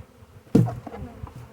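A honey bee swarm clustered on a trap buzzes faintly in the background, with one sudden close thump and some handling noise.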